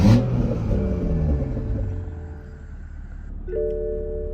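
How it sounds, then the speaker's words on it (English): Toyota A90 Supra fitted with a CTS Turbo catalyst downpipe firing up, a loud initial burst settling into a deep, steady idle rumble with a droning engine tone. "So we're going to turn on the car."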